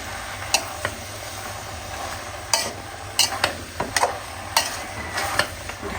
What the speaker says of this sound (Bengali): কাঁঠালগুলোও দিয়ে দিব। এখন ভালো করে কষাই নিব।